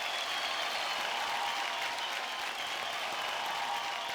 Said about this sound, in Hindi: एक बार रणवीर जी के लिए जोरदार तालियां हो जाए।